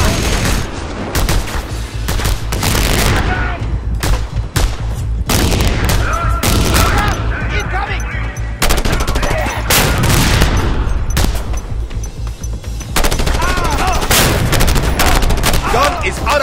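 A mounted gun in Just Cause 2 fires loud, close, heavy bursts again and again over about sixteen seconds, mixed with booming impacts and brief pauses between volleys.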